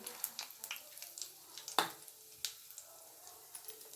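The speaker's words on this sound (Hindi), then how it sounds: "तेल गर्म हो चुका है और एक सूखी मिर्च भी डालेंगे तड़का में।" A dried red chili crackles in hot oil for a tadka, a soft, sparse spitting sizzle with scattered pops and one sharper crack, heard close but quiet in a home kitchen.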